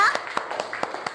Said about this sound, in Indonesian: Tepuk tangan dulu loh buat teman kita.